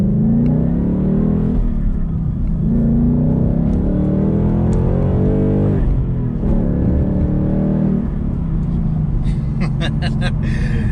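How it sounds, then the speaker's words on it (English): A Roush Ford Mustang with a six-speed manual gearbox accelerates, its engine loud and close, with the drone rising and falling through the gears over a steady rumble. "So setting off in the Roush manual Mustang."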